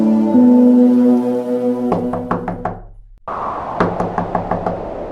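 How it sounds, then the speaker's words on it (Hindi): Series of firm wooden knocks on a hut door on a cold night, two bursts of about five raps each separated by a brief pause, close and loud, following a sustained musical tone with no talk. "वह एक झोपड़ी के पास पहुंचा और दरवाजा खटखटाया"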